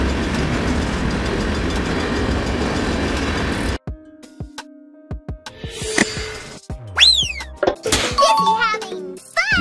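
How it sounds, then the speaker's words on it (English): A tanker train hauling liquids in cylindrical tank cars rumbles steadily and loudly for several seconds, then cuts off to sparse clicks, tones and a sweeping electronic sound. "It carries liquids such as oil, fuel, or chemicals in cylindrical tank cars across long distances."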